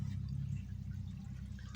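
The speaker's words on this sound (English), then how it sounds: "That is the return water" Return water from a hydroponic lettuce system pours back into a drum in a steady, close low rush that continues without a break, with no talk over it.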